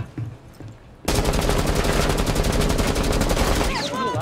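Rapid automatic gunfire in the tactical shooter game Rainbow Six Siege bursts in loudly after a quiet moment, a sustained rattling volley of shots with brief game sounds near the end.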